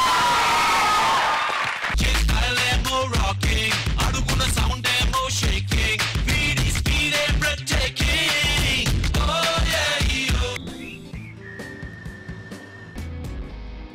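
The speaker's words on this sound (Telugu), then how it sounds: "గట్టిగా చప్పట్లు కొట్టండి రా." A comedy show audience breaks into loud, sustained applause mixed with cheering and whoops, filling the room for several seconds before tapering off into quieter clapping.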